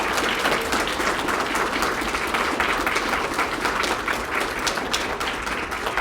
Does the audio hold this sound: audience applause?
yes